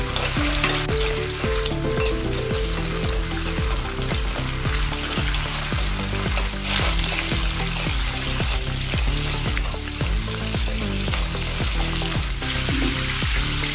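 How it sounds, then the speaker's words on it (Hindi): Water chestnuts fry in oil with a loud, continuous crackling sizzle that stays dense and even throughout, with no voices. "हमने तेल में इसको सिंघाड़े को फ्राई किया है"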